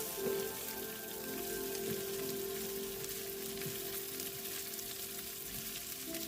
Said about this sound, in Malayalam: മൂന്നെണ്ണം സവ ആഡ് ചെയ്യുക നല്ലപോലെ വഴറ്റുക